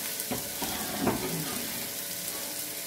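Ginger and soy-marinated chicken hit a hot pan for Filipino tinola chicken soup, giving a continuous close crackling sizzle with a few stirring clatters.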